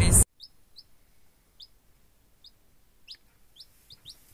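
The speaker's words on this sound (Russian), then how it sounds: "У них сегодня цыплята вылупились." Newly hatched chicks give high, short peeps, repeated in a loose rhythm and fairly soft, after a brief loud noise at the very start.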